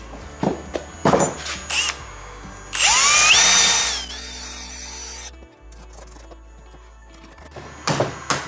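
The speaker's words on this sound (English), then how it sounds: "and reaming it out with a drill bit." A power drill whines for about a second and a half as it bites into metal, with scattered knocks and clunks before and after.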